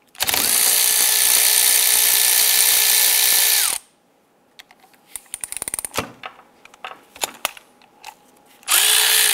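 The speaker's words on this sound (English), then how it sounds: "Using a 14mm socket, we're going to loosen and remove the slider bolts." A power tool with a 14mm socket whirs loudly and steadily for a few seconds while loosening brake caliper slider bolts on a 2008-2013 Nissan Rogue, followed by clicks and clatter of handling, then a second burst of the tool.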